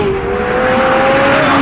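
A McLaren 675LT accelerates hard, its engine note climbing steadily and loudly in one continuous rising pull with no pauses.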